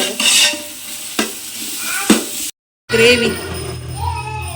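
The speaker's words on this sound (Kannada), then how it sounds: "ಯಾವುದುಂಡು ನೀರುಳ್ಳಿ ಫ್ರೈ ಮಾಡ್ತಂದು" Onions frying in a pan, with a loud close sizzle broken by sharp stirring scrapes, a brief cut to silence, then renewed sizzling and clinking.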